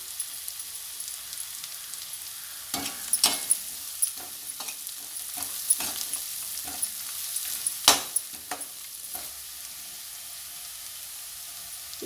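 Onions for onion chitranna fry in a hot pan with turmeric while a spoon stirs them, giving a steady close sizzle broken by scraping stir strokes through the middle of the clip.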